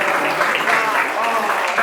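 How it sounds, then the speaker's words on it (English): An audience claps loudly and steadily after an astronomy talk in a bar, dense applause mixed with crowd chatter and voices throughout. "You can keep clapping if you want."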